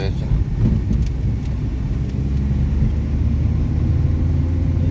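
A car drives along a road with a steady, loud low rumble of engine and tyres heard from inside the cabin at the passenger seat, continuous throughout, with faint talk mixed in.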